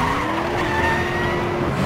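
A car in Resident Evil 6 skids hard, a loud sustained tire squeal with rising tonal whine over rumbling engine noise, close and continuous with no talking.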